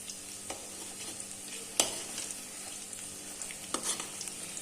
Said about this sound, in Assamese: এখিনি ধুনিয়াকে ভাজি লম